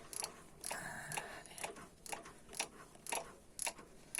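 A ratchet tightening a half-inch bolt clicks in quick bursts, each stroke a rapid run of sharp metallic pawl ticks with brief pauses between, close and fairly quiet.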